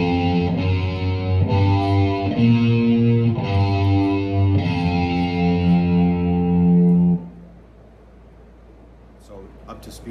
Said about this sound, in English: So it sounds like this slow.